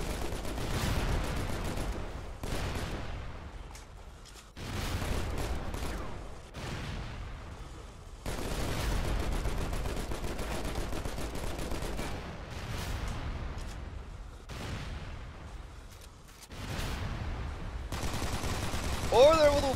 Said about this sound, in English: The assault rifle has crosshairs.